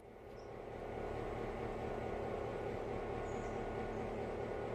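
A train rolls on without stopping in the railway game Railroader, after coming the whole way unbraked. A steady, low rumble of moving rail cars rises over the first second, then holds an even drone throughout.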